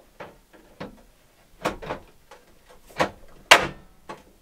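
A drawer front being fitted onto a drawer during step-by-step furniture assembly, giving a series of sharp close clicks and knocks, with the loudest snap near the end.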